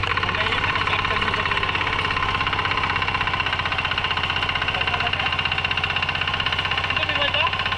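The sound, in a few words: tractor engine in rice paddy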